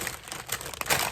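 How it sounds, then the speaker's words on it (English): Packaging from a yarn subscription box crinkles in a brief, close burst of crackling, irregular rustles lasting just over a second, with no talk. "Sorry for the crinkling."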